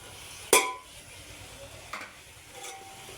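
Chopped tomato drops into a pan of frying food for chicken fry piece biryani, a sharp clatter of the spoon followed by a soft, steady sizzle with light stirring and a couple of faint clinks.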